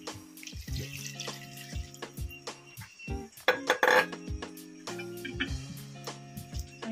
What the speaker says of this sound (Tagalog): Magdadagdag po ako ng tubig.